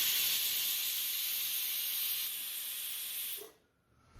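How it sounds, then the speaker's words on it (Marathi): A pressure cooker of potatoes on a gas stove at medium heat releases a steady, loud hiss of steam for several seconds, then cuts off abruptly into near silence, with no talking. "झाकण लावून हा कुकर आता गॅसवरती ठेवायचा आणि मीडियम हीट वर त्याच्या 3 शिट्ट्या करून घ्यायच्या।"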